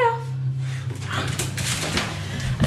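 Dog whimpering and whining after a shower indoors, a few high, wavering cries close by over a low background hum.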